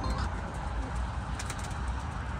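Pigeons cooing at a bird keeper's loft, soft low calls heard faintly beneath a steady background hum, with a few higher chirps in the mix.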